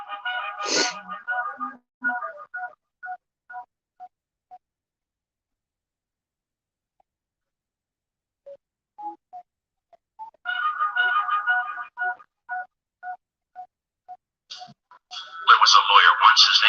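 A phone on speakerphone plays dialing and ringing tones, with short beeps and tonal bursts separated by silence and a louder electronic burst at the end, near and fairly clear.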